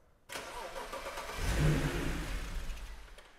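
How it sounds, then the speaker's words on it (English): A BMW 335i N54 engine turns over and catches, rising into a steady mid-pitched rumble that swells briefly and then settles. "we're gonna come crank the car to release all the fuel pressure from the rail"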